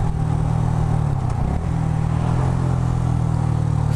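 A motorcycle engine idles with a steady low throb, briefly blipping the throttle before settling back into an even rumble.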